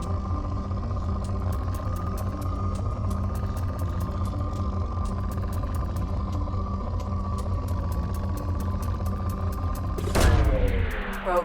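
A probe launches in the space game Mass Effect 2 during planet mining, a sharp whooshing burst with a rising sweep near the end over a steady low droning engine hum and ambient music.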